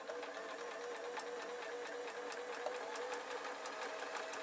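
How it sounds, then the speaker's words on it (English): A sewing machine stitches down the bottom of a fabric lining, giving a faint, steady mechanical hum with a quick regular needle ticking throughout. "I'm going to sew down the bottom"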